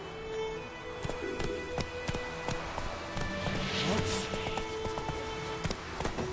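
Horse hooves clatter at a gallop in a video game, a steady rhythmic clip-clop running throughout at moderate loudness over ambient game sounds.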